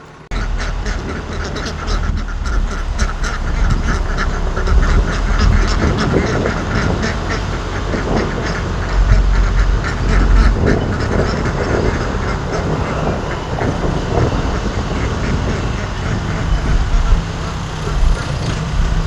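Ducks quack repeatedly amid a steady rumbling, noisy background, with a voice speaking briefly over the din.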